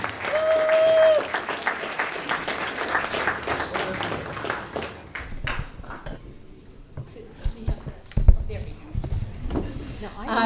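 An indoor audience claps for a board of directors at an evening event, a dense steady patter of many hands that thins out into scattered claps; a voice sounds briefly over it.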